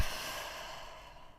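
A single long, breathy exhale, a deep breath let out slowly during a short home fat-burning workout, close and fading toward the end.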